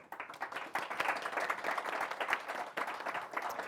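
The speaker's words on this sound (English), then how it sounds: "How about a round of applause for them?" Audience applauding panelists at the close of a rural clean energy dialogue event, steady moderate clapping from a room of people with a few scattered louder claps, sustained for several seconds.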